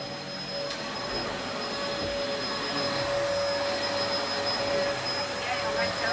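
A large, heavy-duty vacuum cleaner drones steadily while cleaning an apartment, with a whining motor tone throughout. It is loud and close, with no pauses.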